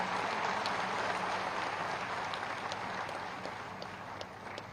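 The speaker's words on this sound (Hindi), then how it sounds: "जोरदार तालियां लगातार बजती रहनी चाहिए।" Steady applause from a large crowd, moderately distant, with sharp claps standing out over a dense wash that fades slightly near the end.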